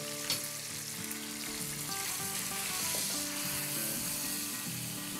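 Chicken pieces with yogurt frying in a pot for tikka pulao give a dense, even sizzle, with the soft scrape and clink of a spoon stirring at intervals, no talking.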